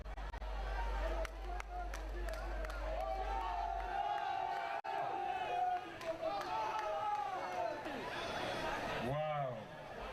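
A large outdoor festival crowd cheers and shouts at a Mare event, with a sustained roar of voices, rising calls and surging excitement that is loud and dense throughout.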